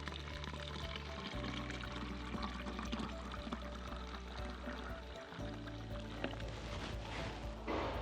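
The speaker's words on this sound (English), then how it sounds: "about 2/3, fill this with water, just normal tap water" Tap water pours steadily into a bottle, a continuous quiet gushing stream that shifts in tone as the bottle fills, with the flow cutting off briefly partway through.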